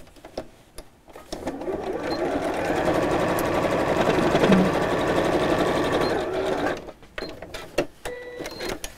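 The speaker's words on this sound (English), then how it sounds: "squish the seams in opposite directions and sew straight across" A sewing machine stitches straight across the corner seams of a simple messenger-style bag in one steady, rapid run of several seconds, close and loud, framed by brief handling clicks and rustles before and after.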